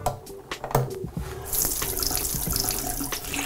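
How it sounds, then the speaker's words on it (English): A bathroom faucet or showerhead runs water steadily after its aerator and gasket are removed for cleaning. A few clicks and handling knocks come first, then the stream opens into a continuous close, full rush that lasts to the end. "turn the water on"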